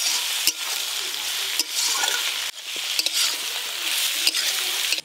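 Onions and capsicum stir-fried in a pan make a steady sizzle, with repeated scraping strokes of a spatula as they are tossed; no voices are heard.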